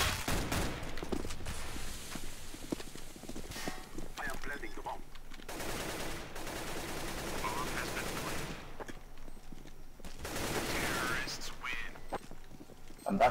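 Pistol gunfire in Counter-Strike: Global Offensive, arriving in several separate bursts of sharp shots with quieter gaps between them, with a voice talking through parts of the clip.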